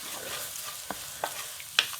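Crushed spice mix drops into hot oil with dried red chillies, lentils and curry leaves, giving a soft steady sizzle with a few sharp stirring clicks and taps from the pan, close and fairly quiet.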